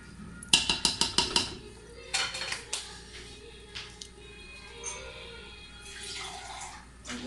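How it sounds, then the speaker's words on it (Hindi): Water is sprinkled over the rice of a degi chana pulao being cooked, with a quick burst of sharp taps followed by soft, scattered splashes and drips, close and fairly quiet. "थोड़ा सा पानी का छट्टा देके"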